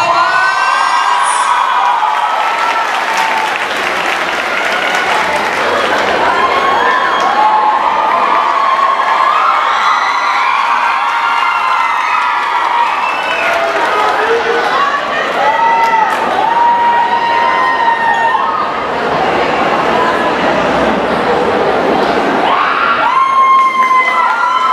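A convention crowd at an anime event cheers loudly for a K-pop dance group performing Savage, with high shrieks, whoops and excited shouting sustained throughout, dense and close, swelling in waves with applause beneath.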